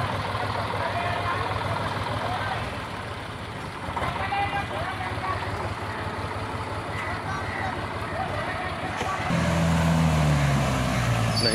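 A tractor engine runs steadily outdoors after the tractor has been pulled out, a continuous rumbling drone with a deeper throbbing rise near the end, and people talk in the background.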